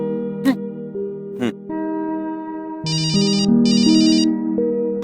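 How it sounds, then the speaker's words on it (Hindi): A phone ringtone plays while a call is being placed, a steady melodic electronic tone that shifts pitch in steps, with a brighter repeating chime pattern in the second half and a couple of short higher blips early on. "फोन लगाया जाए शिखा जी को तुरंत प्रभाव से।"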